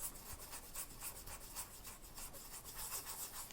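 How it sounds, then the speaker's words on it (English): A brush scrubs briskly at dried gold leaf edges, giving a soft, repeated rubbing and scratching sound that is faint, close and continuous, with no voices. "you can actually get a little bit rougher with it and scrub away at the edges"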